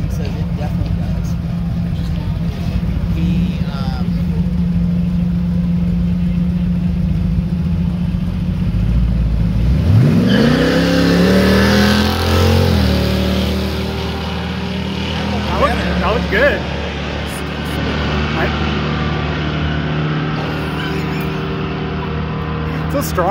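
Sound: 1967 Pontiac Firebird 461 V8 engine revving

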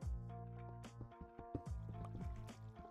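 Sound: flowing water in a cave, from the video game Minecraft

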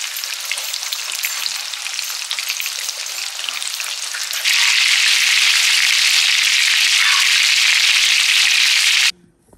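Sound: pork chops frying in pan

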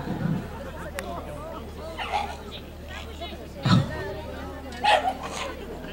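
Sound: small dog making odd noises at agility event

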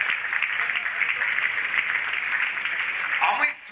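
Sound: audience applause at dance competition

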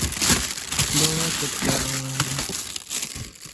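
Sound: plastic bag being crumpled

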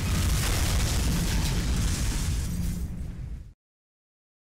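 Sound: massive explosion in video game Fake Lost Vikings 3

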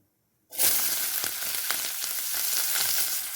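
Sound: chopped onions frying in oil in a kadai

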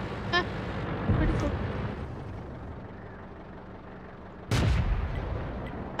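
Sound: tank cannon fire in the video game World of Tanks

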